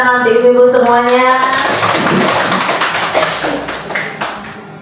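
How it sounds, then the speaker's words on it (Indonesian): A group of women clap together in a classroom gathering, a dense burst of hand claps that fades out over a few seconds, following a voice speaking at the start. "tepuk tangan untuk ibu-ibu semuanya"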